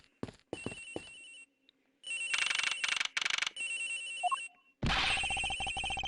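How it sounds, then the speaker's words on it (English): A telephone rings in the Ace Attorney Investigations video game, with loud electronic ring bursts in repeated sets separated by short gaps and a longer final ring, up close and without speech. "The ring is coming from somewhere near, sir."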